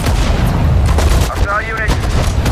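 Artillery fire in the World War II strategy game Sudden Strike 4 comes as loud, booming blasts layered with battle noise, and voices speak through much of it.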